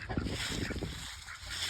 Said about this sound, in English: Now we're gonna get these ducks inside.